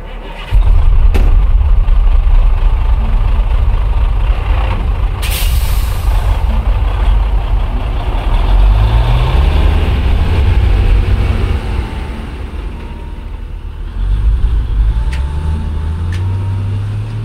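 A loud, close army truck engine rumbles for the whole stretch, with a sharp air-brake hiss early on and rising, falling engine tones as it pulls away and drives.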